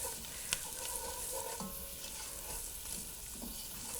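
Onions and dried oregano cook in a pot while being stirred around, giving a steady soft sizzle with light scraping, a sharp clink near the start and a few faint knocks.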